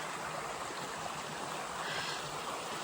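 A creek along the Appalachian Trail in Georgia flows in a steady, broad rush of water over rocks. The sound is continuous and even, close by, with no talking.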